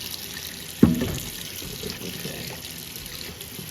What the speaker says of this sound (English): the first step is to wash your pan with some warm soap and water